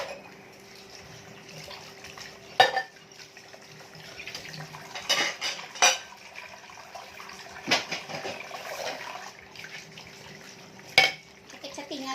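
Plates and dishes are washed under running water, with intermittent clatters and knocks of crockery over a low watery wash while people talk nearby.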